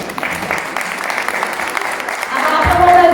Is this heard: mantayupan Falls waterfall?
no